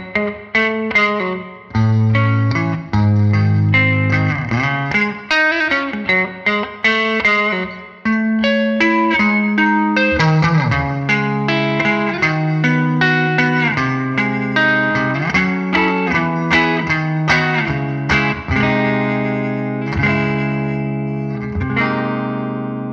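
Electric guitar played through a Cubase amp simulator on a big clean reverb preset: ringing picked chords and single notes with a long, washy tail, loud and close, with no voices.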